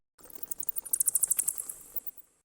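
Cicada call from the PC video game Blinky Bill's Ghost Cave: a quick run of bright, buzzy pulses that swells in the middle and then tapers off over about two seconds, with no other sound.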